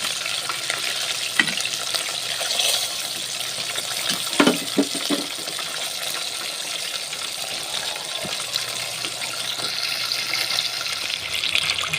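Fried chicken pieces crackle and sizzle in hot cooking oil with a steady frying hiss throughout, occasional small pops and stirring clinks near the middle, no voices.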